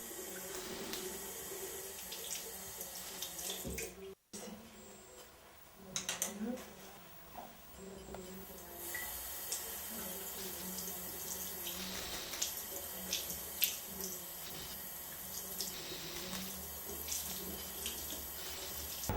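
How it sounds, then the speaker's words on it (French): Makeup brushes rinsed under a running tap, a steady close stream of water splashing into a sink for most of the stretch, with a brief break partway through. "nettoyez régulièrement vos pinceaux, brosses et éponges à l'eau claire et au savon de Marseille"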